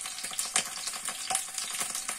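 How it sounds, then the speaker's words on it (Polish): Potatoes frying in a pan, a close, steady crackling sizzle with small bursts of spitting, heard alone without talk. "Smażam mu troszkę ziemniaczki."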